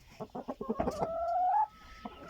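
Hens cluck in short rhythmic bursts, then one draws out a long rising squawk before a few quieter clucks; close by and fairly loud.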